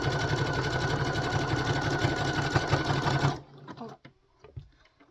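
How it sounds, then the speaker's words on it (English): A sewing machine stitches fabric for a twist headband in a fast, loud, steady mechanical whir at close range, then stops abruptly, leaving a few faint handling clicks and thumps. "sometimes the sewing machine eats the fabric"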